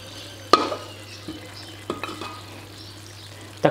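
Pork ribs with lemongrass stir-fried in a pan: a light sizzle broken by several sharp clanks and scrapes of the spatula on the pan, close by.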